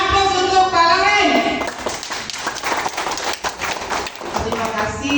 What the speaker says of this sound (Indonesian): Sekali lagi kita aplaus untuk Pak Loren.